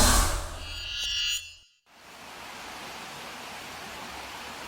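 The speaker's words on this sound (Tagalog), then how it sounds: "Rumaragasa ang tubig sa pababang bahaging yan ng kalsada sa Cebu City kahapon." Floodwater rushes down a sloping street in Cebu City during monsoon flooding, a dense steady roar of churning water that briefly cuts out before returning as a continuous broadband wash.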